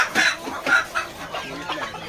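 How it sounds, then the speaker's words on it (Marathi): A desi hen with her chicks clucks in short, soft bursts with a few higher chick peeps mixed in, fairly close, with no voices. "इथे एक कोंबडी आहे ती पिल्लांना घेऊन आहे"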